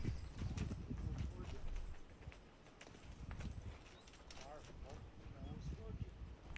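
A ridden horse's hooves clip-clop in a steady walking rhythm, faint under a continuous voice talking over light background noise.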